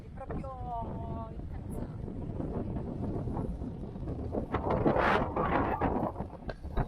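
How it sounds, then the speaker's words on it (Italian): Wind gusting along the northwest coast of São Miguel in the Azores, a continuous rough roar with microphone buffeting that swells toward the end, while people talk beneath it. "C'è un po' di vento."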